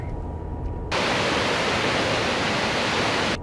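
Rifle Falls, a waterfall in Colorado, roars steadily. After a quieter, muffled first second, it suddenly bursts in loud and close, rushing continuously to the end.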